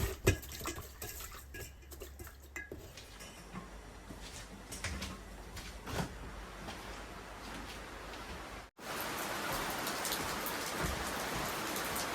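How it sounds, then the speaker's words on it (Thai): Steady light rain keeps falling and pattering on surfaces, with scattered louder drops. Partway through it cuts briefly to a denser, brighter hiss of rainfall, and no one speaks. "บรรยากาศวันนี้ฝนโปรยปลายทั้งวันนะคะ"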